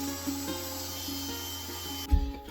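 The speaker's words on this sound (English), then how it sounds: "First cut on the neck blank." Hand saw cutting a tenon into a wooden ukulele neck blank, giving a steady close rasping scrape with faint rhythmic strokes and a thump at the end.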